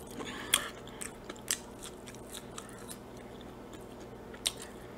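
Close, crunchy bites and chewing of restaurant food from TGI Fridays during a mukbang, a few sharp crunches spaced irregularly over soft mouth sounds.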